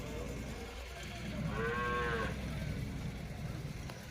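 A calf lows once at a cattle market, a clear drawn-out moo rising over a constant murmur of background crowd noise.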